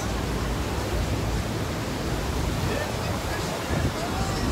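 Ocean waves wash onto the beach at Mazatlán, Mexico, in a constant broad roar of surf mixed with wind buffeting the microphone, with no clear breaks.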